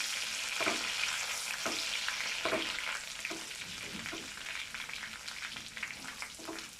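Whole bay leaves, cinnamon and cardamom frying in hot oil, a continuous soft sizzle with quiet stirring taps and scrapes recurring throughout, fairly faint and without talk.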